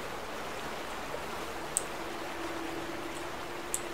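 Flowing river water in The Vanishing of Ethan Carter, a steady continuous rushing wash with a few faint drip-like ticks, no talk.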